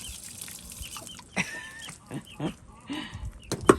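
Chickens at a farm waterer give several short, scattered clucks and chirps close by, fairly faint, with quiet rustling between calls.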